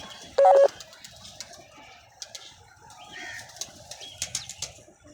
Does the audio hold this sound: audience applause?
no